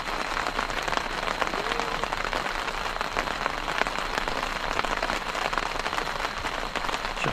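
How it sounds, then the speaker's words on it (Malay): Steady, dense patter of rain drumming on a taut fabric camping tent in the Cameron Highlands, continuous and close, with no talking. "Dengar bunyi hujan."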